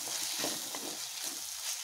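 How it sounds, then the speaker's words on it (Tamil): A ground paste of shallots, cinnamon and clove gets stirred in a hot pan, giving a soft, continuous frying sizzle with gentle scraping strokes, close and fairly quiet with no voices. "இதை நம்ம கூட ஆட் பண்ணிக்கலாம். நல்லா மிக்ஸ் பண்ணி விட்டுலாம்."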